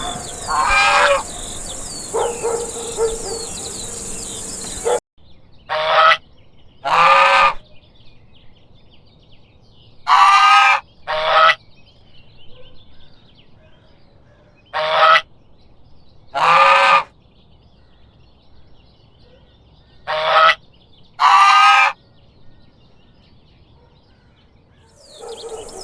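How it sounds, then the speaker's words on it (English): Farm geese honk in short loud bursts, paired calls repeating at intervals with quiet gaps between, close and clear against faint background ambience. "Goose."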